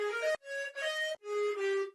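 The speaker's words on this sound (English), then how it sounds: "which is a flute, I think, like from Banjo-Kazooie." A flute-like sampled melody from the Banjo-Kazooie video game, heavily processed, plays four short sustained notes with brief gaps between them, clear and alone.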